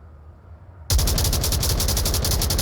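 Automatic gunfire in the VR shooter Onward during a competitive league match bursts in suddenly after a near-silent moment, then keeps going as a loud, rapid, steady stream of shots.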